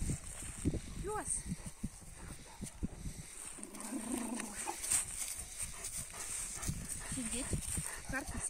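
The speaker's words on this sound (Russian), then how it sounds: "Пес." A dog gives a few brief whines and snuffles close by, while someone talks to it almost continuously over a faint background hiss.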